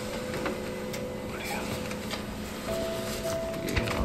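A small bill printer feeds and prints a receipt with a steady mechanical whir and ticking in an office, running under background chatter and room noise.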